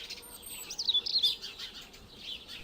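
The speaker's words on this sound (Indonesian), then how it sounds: "menikmati kicau burung yang masih tersisa di beberapa dahan saja" Birds chirp in village trees, a quick burst of high tweets and twittering calls, faint and slightly distant, with no other sounds over them.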